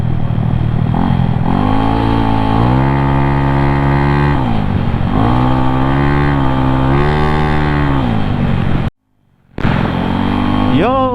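A Yamaha Mio 4-valve scooter engine with a swapped muffler revs hard and loud up close, climbing and dropping in repeated throttle blips before a brief cutout and a final rising rev.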